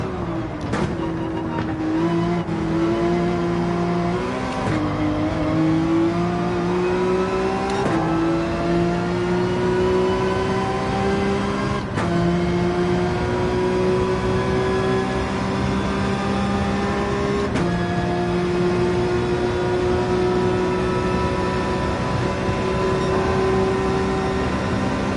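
A race car engine roars steadily around a track in Gran Turismo 7, loud and close, its pitch climbing through each gear and dropping sharply at repeated shifts.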